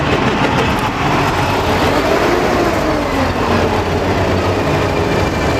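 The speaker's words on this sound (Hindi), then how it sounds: "गाड़ी जब स्टार्ट होगी तो आपको यहाँ पर इंजन साउंड पता चलेगा" An Eicher BS6 CNG truck engine runs steadily and loudly close by, a continuous low mechanical rumble with a broad rushing hiss and no pauses, heard without talk.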